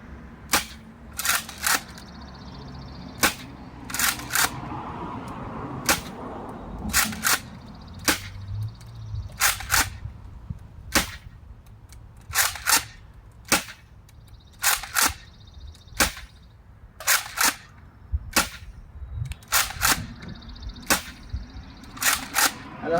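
An X-Shot Longshot toy blaster fires repeatedly in sharp, loud, isolated snaps spaced irregularly over time, with faint mechanical priming noises between some shots and no talking.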